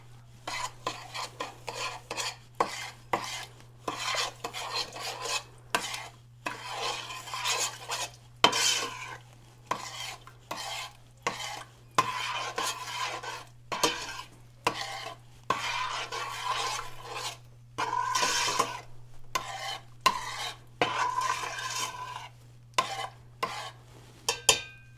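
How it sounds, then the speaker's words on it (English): A spoon stirs no-bake preacher cookie mixture in a pot, scraping in quick repeated strokes with a steady low hum beneath, close and alone with no talking. "And I'm going to stir it."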